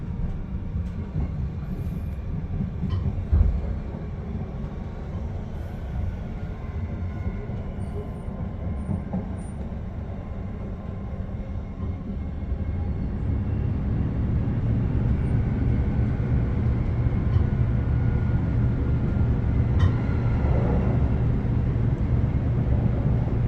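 A Perth suburban electric train running express from Perth Station toward Showgrounds Station: steady onboard rumble of wheels and motors, a continuous low roar that swells slightly as speed builds, with no voices.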